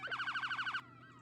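Police car sirens in a video game wail in a fast, rising-and-falling yelp for under a second, loud and alone, then cut off, leaving only a faint electronic tail.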